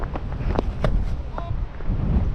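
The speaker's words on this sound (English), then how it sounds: "it's sort of open here, the wind is constant" Gale-force wind sweeps across an open cricket field and buffets the microphone with a constant low, rumbling roar, while brief voices cut through.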